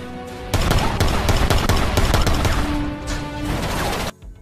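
A rapid fusillade of gunshots rings out during a film shootout, with dense loud cracks in quick succession over a rumbling music-like bed before the firing abruptly stops.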